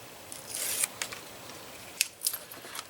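Scissors cutting through scored paper strips, a few quick crisp snips and a short slicing pass, faint and close with no talking.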